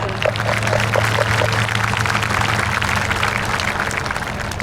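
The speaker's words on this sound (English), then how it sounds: "We can clap for them." A crowd at a high school graduation claps steadily throughout, a dense patter of many hands with a brief voice near the start.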